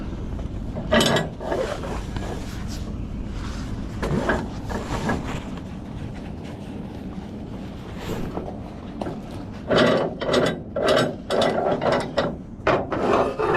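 A winch is ratcheted while pipe and decking are secured for hauling, with bursts of rapid metallic clicking from the pawl, sparse at first, then dense repeated cranks near the end, heard close and loud.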